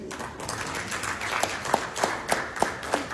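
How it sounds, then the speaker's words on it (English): An audience at an award ceremony claps in a loose, moderate patter, with several sharper, louder hand claps standing out near the end, fairly close and without talk. "I'm sure if you clap better, she will come up."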